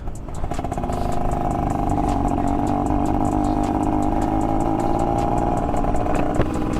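A motorcycle ride on a dusty road stuck behind two trucks, with a continuous close engine drone holding a steady pitch and a faint rattling texture for nearly seven seconds, no voices.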